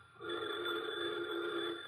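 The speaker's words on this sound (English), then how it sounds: "pardon me, the phone's ringing." A telephone rings in a studio setting for an old-time radio comedy, one steady electronic trill held continuously for about two seconds with no talking over it.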